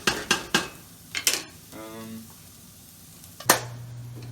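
Plant-based vegetables sizzling in a pan while being stirred, with several sharp utensil scrapes and clinks against the pan over a quiet, steady frying hiss.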